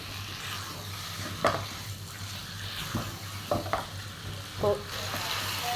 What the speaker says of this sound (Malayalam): ഇത് നന്നായൊന്ന് മിക്സ് ചെയ്തെടുക്കാം